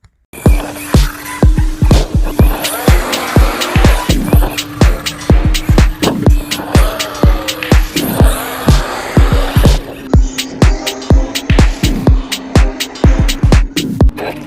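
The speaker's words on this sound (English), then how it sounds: "So let's go ahead and let's take this and let's bash it real quick." An Arrma Kraton 6s EXB RC car driven hard and bashed, with repeated sharp impacts and clatters in a steady rhythm over a continuous motor whine and hum, loud and close throughout.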